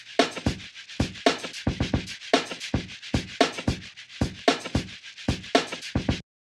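Layered lofi indie pop drum loops play together alone, with punchy kicks and crisp snare or clap hits in a steady, repeating groove topped by a shaker ticking on every other beat.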